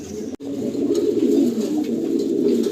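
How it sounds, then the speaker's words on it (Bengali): Several racing pigeons coo steadily and softly together in an enclosed loft, a continuous low burbling murmur with no talking. "পুরো ফুল অ্যাক্টিভ হয়ে আছে পায়রা"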